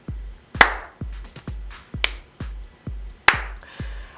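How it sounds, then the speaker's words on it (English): A slow clap, single sharp claps spaced evenly about half a second apart, close and crisp with a few louder strikes among them. "sometimes we give you a slow clap"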